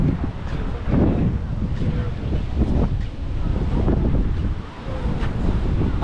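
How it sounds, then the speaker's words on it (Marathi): Strong wind blows steadily at a farm house in Goa, a loud, dense rushing roar that buffets the microphone with only brief dips, while a voice speaks faintly beneath it. "खूप मस्त वातावरण आहे आणि खूप हवा चालू आहे."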